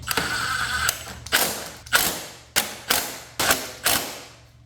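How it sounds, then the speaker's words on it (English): Allen bolts being tightened on a Kawasaki Ninja 300 throttle body with a ratcheting tool, a run of about six sharp clicking strokes, each followed by a short fading rasp, close and alone. "then you can tighten up the Allen bolt all the way"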